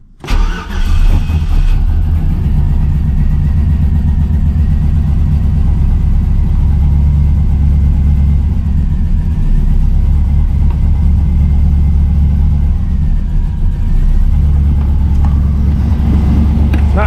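LS-swapped Chevrolet Caprice V8 starting up, then idling loud and close with a deep steady rumble that swells and eases slightly as the engine surges.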